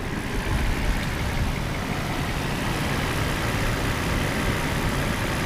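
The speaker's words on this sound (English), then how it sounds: "But the engine runs like very nice, actually." A 1997 Mercedes S600 coupe engine idles steadily, a dense continuous low rumble with even broadband noise and no voices, holding constant level throughout.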